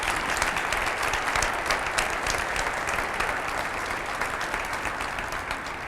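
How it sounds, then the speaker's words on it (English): Sustained applause from a large audience honoring an executive leadership team, dense steady clapping filling the whole stretch at an even loudness, tapering slightly toward the end. "Keep your clapping going for Tom and Marilee and entire executive leadership team, please."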